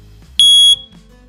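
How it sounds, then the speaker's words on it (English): A smoke detector beside a LiPo battery charging station gives a single short, loud piercing beep of about a third of a second, with quiet surroundings before and after. "If anything goes wrong, smoke detector will go off."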